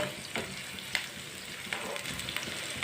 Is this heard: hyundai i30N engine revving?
no